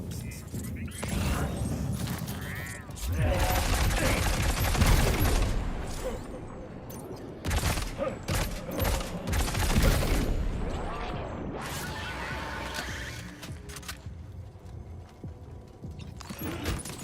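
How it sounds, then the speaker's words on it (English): Dense bursts of rapid gunfire and crashing impacts fill a chaotic Death Stranding 2 game soundscape, loud and continuous with clustered volleys. "There are the gunshots, that's fine"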